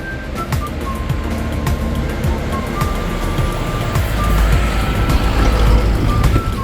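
Buses driving up the road to Machu Picchu, a loud, close engine rumble with a low roar that swells near the end, plus scattered beeps over steady traffic noise.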